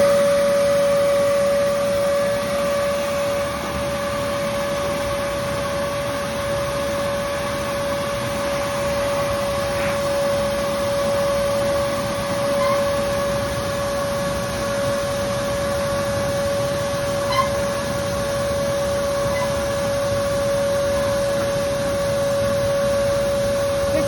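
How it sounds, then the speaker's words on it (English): A shop vacuum runs continuously with a steady whine and rushing airflow, cleaning up after powder coating, unchanging for the whole stretch, no voices. "you can use a shop vac to vacuum up."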